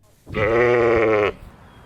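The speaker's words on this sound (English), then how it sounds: "It all starts with merino sheep." A merino sheep gives one loud, close bleat lasting about a second, wavering and nasal, standing alone against a quiet background.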